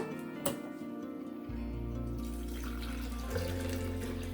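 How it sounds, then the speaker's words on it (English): Hot water from a kettle pours into a French press holding lemongrass, a close, steady liquid stream that begins after a short clink and continues as a filling gurgle whose pitch shifts as the vessel fills. "And then I just pour some hot water in it from my kettle."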